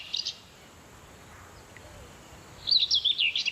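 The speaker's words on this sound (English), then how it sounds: "Little bird right there." Small bird chirping outdoors, a quick bright burst at the start, then a quiet pause before a faster run of repeated chirps near the end, fairly close and alone.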